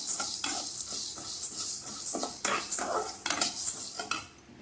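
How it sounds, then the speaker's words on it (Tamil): Chana dal and urad dal are dry roasted in a pan, the dry lentils rustling and rattling as a spoon stirs and scrapes the metal in quick repeated strokes, fairly quiet and close. "கடலப்பருப்பை கொஞ்சம் வறுத்துருக்குறேன் அதிலே வந்து உளுந்தையும் போட்டுக்க போகிறேன்"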